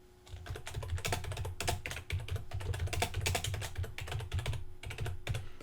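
Rapid, uneven keystrokes clatter on a computer keyboard as text is typed, close and clear, with short pauses between bursts of keys.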